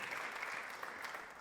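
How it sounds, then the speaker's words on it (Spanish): Church congregation clapping for Jesus during a Spanish-language sermon, a short burst of soft, distant applause lasting just over a second. "Dale un aplauso a Jesús entonces."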